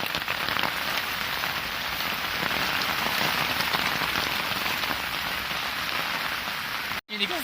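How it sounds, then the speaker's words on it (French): Heavy rain falls in the jungle, a dense, steady hiss of drops hitting surfaces close by, continuous throughout with a brief drop-out near the end. "Qui dit selva dit pluie, hein."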